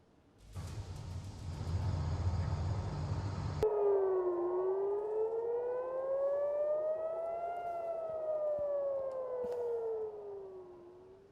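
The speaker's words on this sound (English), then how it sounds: "And now sirens blared in Tel Aviv during the latest barrage from Iran" A loud burst of rumbling noise gives way to a wailing air raid siren in Tel Aviv during an Iranian missile barrage, its pitch slowly rising and falling over several seconds.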